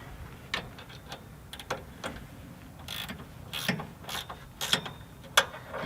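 Bolts are tightened by hand during a rear Air Lift install on a square-body Suburban truck, giving quiet, irregular ratcheting clicks and metallic ticks at close range with no talking.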